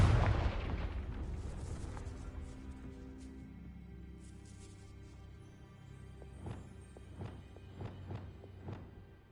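A Confringo fire spell bursts in the Hogwarts Legacy video game, opening with a loud, close blast that rumbles and fades, followed later by a series of sharper, quieter impact cracks.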